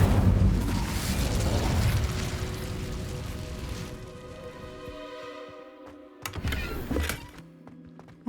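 A fire spell cast in Hogwarts Legacy: a loud whooshing burst of flame at the start that fades over several seconds, followed by a couple of sharper crackling hits near the end.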